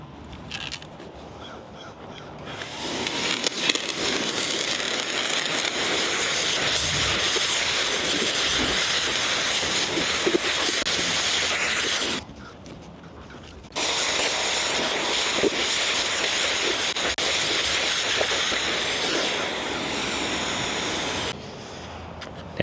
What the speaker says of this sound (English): I'm gonna hit it with a pressure washer to get the bulk of the nastiness off of it